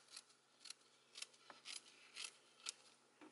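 Scissors trimming excess lace from a 4x4 lace closure, about seven quiet, crisp snips in an irregular rhythm, close by.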